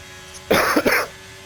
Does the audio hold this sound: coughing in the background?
yes